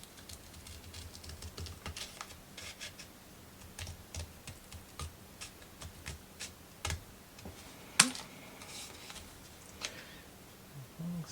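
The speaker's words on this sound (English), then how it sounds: "I get to use the big boy scissors" Big scissors snip through corrugated roof sections for a Christmas book nook, making a steady run of small, close crisp clicks and crunches with one sharper snap near the end.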